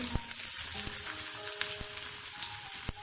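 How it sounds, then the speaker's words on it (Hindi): Onions frying in a pan over a low to medium flame, a steady close sizzle with occasional sharp crackles and pops, no voices. "प्याज को हम फ्राई करेंगे"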